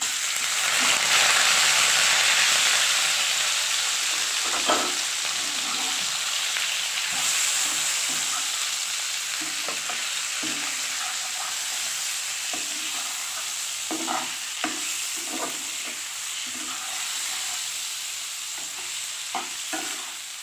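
Lata fish seasoned with salt and turmeric fries in hot oil, a steady close sizzle with faint stirring clicks and scrapes of a spatula running throughout, no voices.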